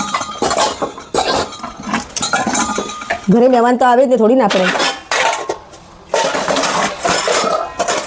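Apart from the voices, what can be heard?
putting away a pile of dishes and utensils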